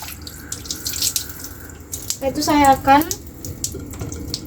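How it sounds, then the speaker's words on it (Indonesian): Running tap water while hands are washed, a steady hiss through the clip that rises a little near the end, with a voice talking over it. "membasuhi tangan menggunakan air mengalir"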